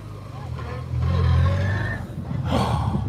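A Subaru rally car with a straight-cut gearbox drives past at a classic and Targa rally at Wray, its engine revving with a gear whine, rising and falling, while voices talk nearby.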